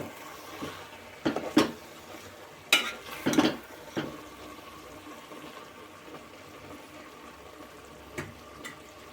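A village-style curry of cucumber, tomato and broad beans is stirred in a pot. A few short, scraping, wet bursts of stirring stand out against a quiet background, with no voices.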